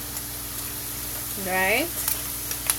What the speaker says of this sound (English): And this is them frying.